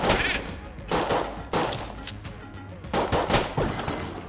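Repeated gunfire from a weapon in the dungeon-crawler game Enter the Gungeon, loud bursts of shots in several clusters with game effects layered between them, no talking.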